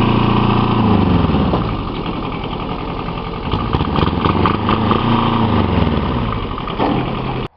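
A Kubota diesel engine revs steadily at its stock throttle limit, a loud, continuous close-up drone with a slight dip in pitch partway through and no voices.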